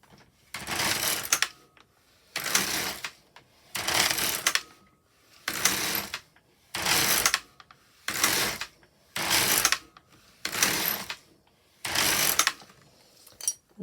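LK150 knitting machine carriage pushed back and forth across rows of alternate needles, ten regular sliding, clattering passes about a second long each, separated by short pauses, close and clear.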